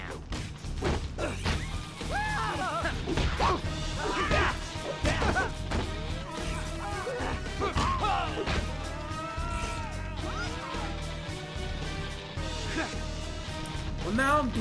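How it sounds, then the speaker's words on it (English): Heavy smashing and crashing impacts from something tearing through buildings in the Ultimate Spider-Man video game, repeated thuds and whacks over a dense game soundtrack with voices talking throughout. "Whatever this thing is, it's smashing holes through entire buildings."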